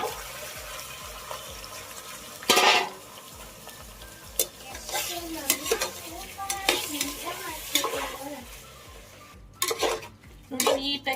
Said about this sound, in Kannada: ಹಾಕಿ ಮ್ಯಾಗ್ನೆಟಿಂಗ್ ಮಾಡ್ಕೊಂಡಿರೋದನ್ನ ನೀಟಾಗಿ ಎಣ್ಣೆನಲ್ಲಿ ಉಣಿಸ್ಕೊಳ್ಳೋಣ